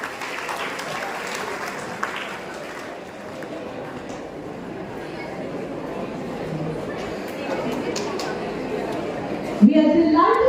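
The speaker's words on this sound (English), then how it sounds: "Let's keep the applause going." An audience at a school United Nations conference keeps clapping in a steady, diffuse roar of applause mixed with crowd murmur, swelling toward the end as a loud voice comes in.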